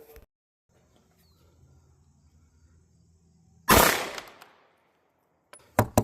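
A single loud pistol shot fired through a CVLIFE WildHawk red dot sight rings out sharply with a decaying tail after quiet handling noises, followed by two quick sharp clicks or shots near the end.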